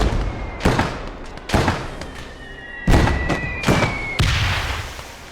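Mortar rounds fire and land in a Blood Red Snow battle, a series of five heavy booming thumps spaced about a second apart, loud and close with rumbling tails and a faint whistling tone between blasts.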